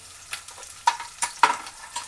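Chopped green chillies hit hot oil with chicken and onions, giving soft sizzling under a handful of sharp scraping stirs spaced irregularly over two seconds, close and alone without talk.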